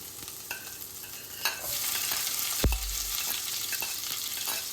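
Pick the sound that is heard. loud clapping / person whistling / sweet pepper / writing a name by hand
sweet pepper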